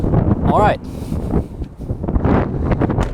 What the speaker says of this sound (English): Excuse the wind, it's getting pretty windy here.